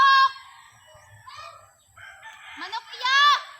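A rooster crows close by at a harvest, with a loud strained call at the start and another rising crow near the end, separated by a quiet gap with faint other bird sounds.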